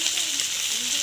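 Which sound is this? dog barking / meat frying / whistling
meat frying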